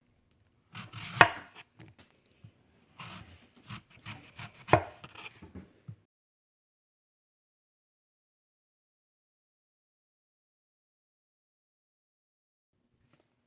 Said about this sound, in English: you have to use a knife to cut up the apples